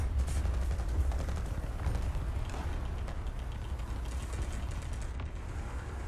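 Rapid machine gun fire aimed at a tank in War Thunder, a dense, continuous mechanical rattle of shots running steadily throughout at close range with no talking.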